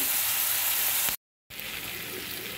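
Snails fry in a pan, making a loud, close, continuous sizzle. The hiss cuts out abruptly for a moment and then resumes just as steadily.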